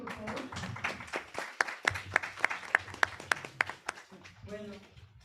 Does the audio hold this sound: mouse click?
no